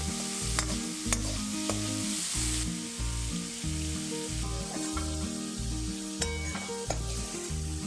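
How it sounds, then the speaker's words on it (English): Prawns frying in vegetable oil in a kadhai over medium-high heat: a continuous bright sizzle over a steady low rhythmic hum, with sharp utensil taps and scrapes, no speech. "Heat some vegetable oil in a kadhai and fry the prawns on medium-high heat for about 2 minutes"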